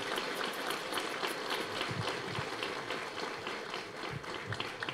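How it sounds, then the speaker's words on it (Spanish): An audience applauds at a community ceremony in aldea Chivarabal, Tecpán, producing a dense, steady wash of clapping that stays even in level for the whole stretch. "Más fuerte los aplausos, por favor"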